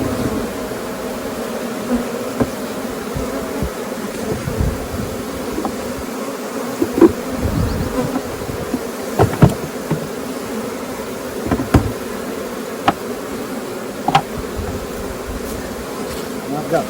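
Honeybees buzz steadily around a hive frame during a June honey harvest, a dense close hum with scattered taps and knocks as bees are shaken from the comb.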